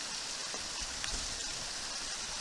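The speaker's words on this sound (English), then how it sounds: "it's just coming out of this hillside everywhere. Little waterfalls, another one up there, another one up there." Small waterfalls and rivulets pour out of a wet, fern-covered hillside beside the Satsop River, giving a steady close hiss of rushing, splashing water with no voices.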